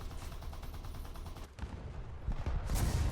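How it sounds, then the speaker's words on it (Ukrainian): Machine gun fire from a tank in the War Thunder video game, a rapid rattling burst of shots over a low engine rumble, briefly pausing before heavier, louder thumps close in. "Давай хоча б з кулемета."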